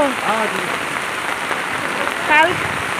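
Heavy rain pours down steadily, a dense close hiss of drops hitting surfaces throughout, while a voice speaks over it.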